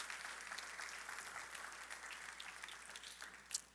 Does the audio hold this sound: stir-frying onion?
no